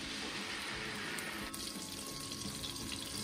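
Onion paste hits hot oil in a karahi for dhaba-style chicken karahi, producing a steady, fairly quiet sizzling hiss that continues without a break.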